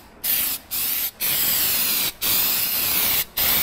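Aerosol spray paint hisses in five or six loud bursts separated by brief pauses, close up with no talking.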